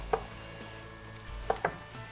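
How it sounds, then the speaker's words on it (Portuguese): Onion frying in butter in a pan gives a low steady sizzle, with a couple of sharp stirring clacks from a utensil near the start and around the middle. "Enquanto a cebola está dourando"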